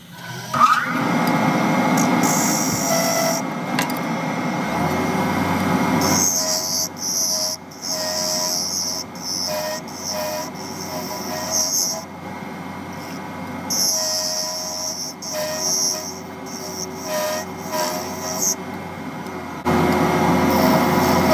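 A lathe turns a pen component down to diameter, a close whir and hiss of cutting with intermittent high scraping as the tool bites, pausing and restarting along the way.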